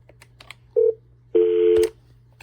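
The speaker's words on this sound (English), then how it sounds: "So you dial 402 on these and it opens out an external phone line for you" DTMF telephone keypad tones dialing extension 402 on a FreePBX phone system, with faint soft clicks from button presses, one short tone, then a longer one, over a steady low hum.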